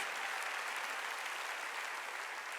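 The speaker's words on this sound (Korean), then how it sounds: "박수야" A church congregation claps steadily through a Wednesday worship sermon, a dense, even wash of hands at moderate distance with no talking over it.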